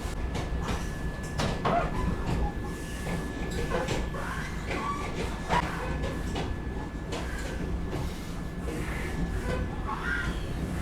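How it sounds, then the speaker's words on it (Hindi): Vande Bharat Express departing after a two-minute halt on the Howrah to Patna run, heard from inside the AC chair car as a steady loud rumble with rattles and knocks throughout. "2 मिनट का हॉल्ट लेके हमारे यहाँ से डिपार्चर हो चुका है"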